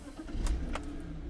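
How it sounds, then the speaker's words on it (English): A BMW E46 325i Touring, worn and with a faulty oil level sensor, cranks briefly and fires, its engine catching and settling into a steady low idle, close by. "The engine starts up nicely."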